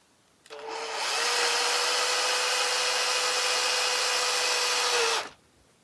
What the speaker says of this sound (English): some number 8 by 5/8 self-threading, self-tapping screws, and they go in